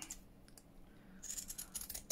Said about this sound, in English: I want to cut it about there.